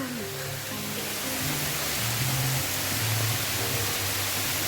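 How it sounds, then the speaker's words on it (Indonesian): Water falls and trickles at a waterfall by a rocky tourist spot, a steady broadband rush filling the scene, with a voice talking faintly over it. "Gemericik. Air jatuh dari atas."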